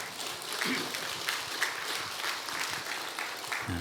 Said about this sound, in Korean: 우리 한 번 더 하나님께 영광의 박수를 올리기 원합니다.